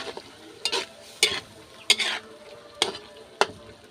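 A spoon scrapes through squid adobo in a frying pan in six rhythmic stirring strokes, each a sharp scrape over a low, steady sizzle, close and fairly quiet.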